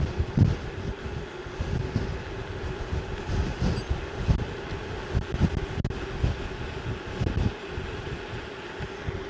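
Steady coastal wind at Ogmore-by-Sea, Wales, roars and buffets the microphone in gusty low rumbles beside a choppy sea, a constant rushing noise outdoors with no talking.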